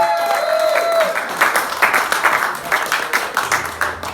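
A small music-room audience at a live show applauds and cheers for a lyricist, a lively burst of clapping that carries on steadily and begins to taper, with a brief whistle at the start.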